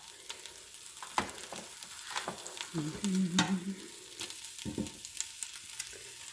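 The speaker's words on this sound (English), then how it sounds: "we're gonna get the veg and put it in the pot as well" Vegetables for lentil soup tipped into a pot over medium heat and stirred, with clattering scrapes and a brief louder sizzle and bubbling burst midway, close and alone.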